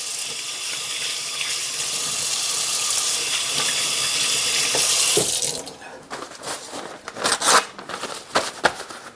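Water runs hard from a tap into a sink as hands are washed with bleach water and soap, a loud steady gush that cuts off midway, followed by scattered splashes, rubbing and handling noises.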